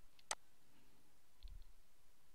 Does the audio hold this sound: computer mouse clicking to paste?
yes